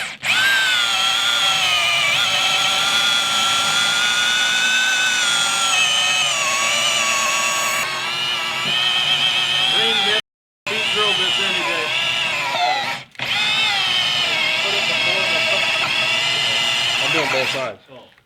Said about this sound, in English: He's about to get this hole drilled out to 3/4 as well